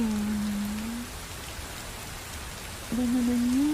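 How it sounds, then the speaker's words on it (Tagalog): Rain falls in an animated scene, a steady hiss of drops on a surface throughout, with a sustained tone briefly over it at the start and end and no talk. "Umulan pa."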